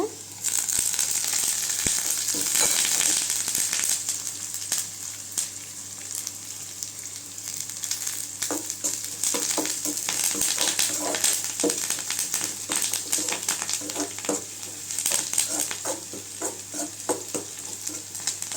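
Onions sautéing in hot oil with curry leaves for Tamil-style carrot rice, a steady close sizzle and crackle running throughout with occasional stirring scrapes and no talk.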